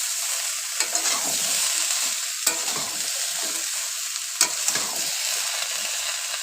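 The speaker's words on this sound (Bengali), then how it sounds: "ভালো করে সবজিগুলো মশলার সাথে কষিয়ে নিচ্ছি।" Mixed vegetables cooked down with spices in a hot pan for a hilsa fish head curry, a bright, continuous sizzle broken by several sharp scrapes and clacks of a stirring spatula.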